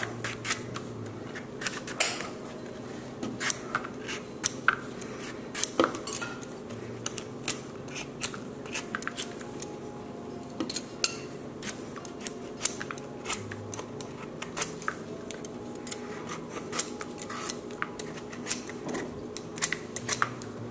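Knife peeling and cutting a buffalo gourd, a run of close, crisp scraping and snipping strokes at an irregular pace, with rustling between cuts and no talk.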